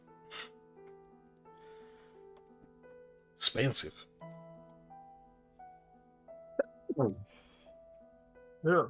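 Two sharp, sudden bursts like sneezes break up quiet background tones, with people talking briefly between them.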